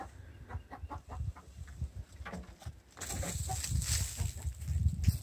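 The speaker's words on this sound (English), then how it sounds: "the chickens are going to love that" Chickens cluck and rustle on a farm in short, busy bursts, close by, with a louder stretch of farmyard activity toward the end and no talking.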